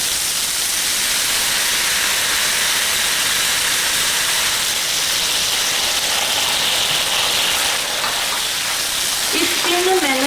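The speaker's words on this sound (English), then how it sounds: "Now we're going to add lychee and the sauce to cook for 1 minute until the sauce is thickened." Lychee, shrimp sauce and green pepper simmering in a hot pan, giving a steady, loud broadband sizzle and hiss throughout, with a few faint utensil clinks near the end.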